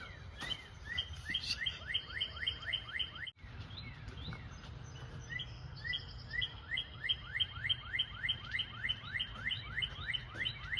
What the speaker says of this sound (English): This redbird comes every day.